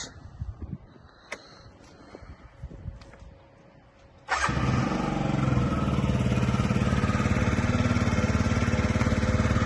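A Yamaha Jog SA36 fuel-injected scooter starts after some handling clicks and knocks, then its small engine settles into a steady, close, buzzing idle with a rapid putter.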